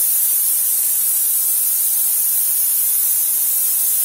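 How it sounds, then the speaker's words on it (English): Steam wand of an ACS Minima Dual Boiler espresso machine, a prototype, venting dry steam: a steady, loud, even hiss with no breaks and no talking. "And now I'm going to show the steaming out of that. As you can see, much more steam."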